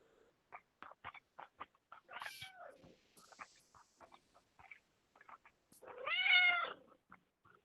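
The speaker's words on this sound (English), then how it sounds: "Who's got the cat?" A cat meows twice during an online meeting, a short mew early and a longer, louder drawn-out meow near the end, amid quiet tapping and clicking noises with no speech.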